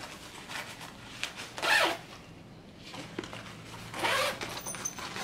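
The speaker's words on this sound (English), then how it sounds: "it has a zipper right here" Zipper on a DC Comics tote bag being pulled in two quick, close strokes separated by a pause, each a short raspy burst over a quiet room.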